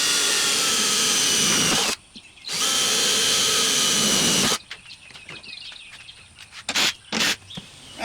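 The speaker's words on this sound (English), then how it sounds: "And then drill your 2 holes out." A power drill whines in two loud, sustained bursts with a short pause between, drilling holes for Jeep JK power door locks, followed by quieter clicks and handling noises.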